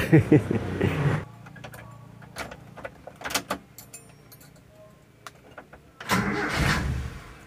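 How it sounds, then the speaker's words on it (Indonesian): A Toyota car engine with a rough, unsteady idle gives a low, steady rumble with scattered clicks, while people talk louder at the start and end. "saya tunjukkan bahwa mesin yang ceger itu tidak sehat"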